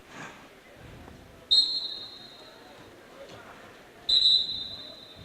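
Referee's whistle at a high school wrestling match, two sharp shrill blasts a few seconds apart rising over faint gym crowd murmur.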